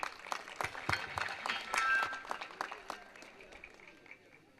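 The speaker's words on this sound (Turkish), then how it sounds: "alkışlıyoruz" Applause from a crowd at the opening ceremony of a village cemevi, a scattered burst of clapping that swells and then thins out over a few seconds, heard at moderate distance with no speech over it.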